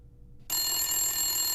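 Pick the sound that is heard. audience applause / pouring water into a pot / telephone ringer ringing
telephone ringer ringing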